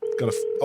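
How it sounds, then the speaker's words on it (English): A short electronic phone ring tone in a video game sounds steadily while a person briefly exclaims over it. "we get a phone call"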